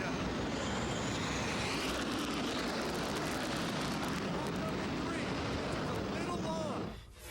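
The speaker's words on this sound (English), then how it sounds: "The jet's trying to hit number 2." A jet aircraft coming in to land onto arresting cables, a loud continuous roar of engine and wind noise that fades near the end, with talking partly masked beneath it.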